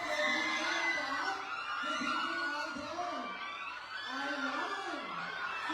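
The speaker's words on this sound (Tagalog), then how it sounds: "ang mga hiyawan na, hindi mo kaya." A crowd of fans screams, shrieks and cheers at a movie premiere night, with high excited voices rising and falling in waves throughout, loud and close, mixed with overlapping shouting.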